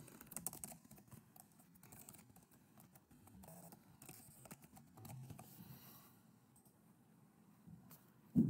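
Keys tapped on a computer keyboard while entering an email address to register for an online auction, a quiet, irregular patter of clicks running throughout with a louder knock right at the end.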